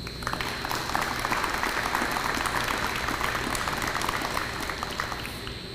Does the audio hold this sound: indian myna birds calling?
no